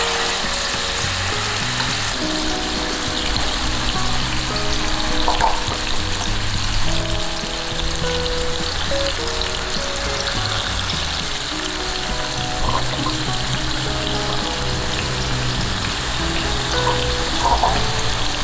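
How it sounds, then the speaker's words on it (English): Chicken fries in hot oil in a pan, giving a dense, continuous close sizzle and crackle with small spits and pops throughout, with no one speaking. "now place the chicken nice and slowly into the oil"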